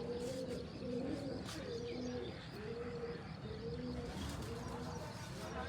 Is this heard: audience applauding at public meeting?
no